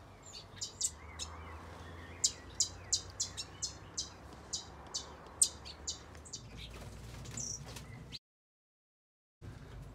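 Aviary finches, including redhead finches, give short, sharp chirps repeated about every half second at close range over a soft background hum. The chirping stops and goes silent near the end.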